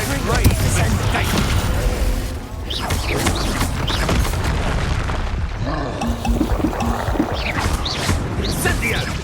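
The Expulso explosion spell booms during a busy Hogwarts Legacy video game fight, with thuds and crashes and a voice speaking loudly over the combat.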